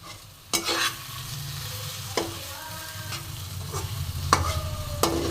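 Kulekhara greens being stirred with a little sugar in a pan, a spatula scraping in sharp strokes every second or so over a steady low sizzle, close and moderately loud, no voices.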